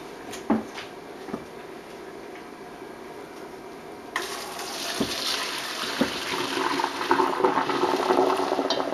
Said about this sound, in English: then I'm going to pour it into my strainer.